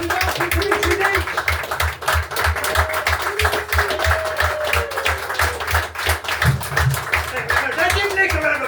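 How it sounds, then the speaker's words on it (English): A pub audience at the White Horse in Clun claps and applauds to welcome a comedian, dense continuous clapping throughout with a voice talking over it. "1, 2, 3, start the applause."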